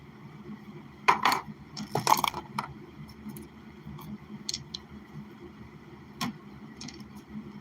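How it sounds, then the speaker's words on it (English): A die drops and clatters, with a few sharp bouncing ticks clustered early and a couple of scattered lighter clicks later over a quiet room hum. "I just dropped a dice and I lost it"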